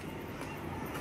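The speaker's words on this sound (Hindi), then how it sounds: "ट्रेन की आवाज़ भी यहाँ पे सुनाई दे रही है हम लोगों को।" A steady, dense rumble of a freight train approaching a railway crossing fills the clip, broadband and continuous, with no distinct clacks or horn standing out.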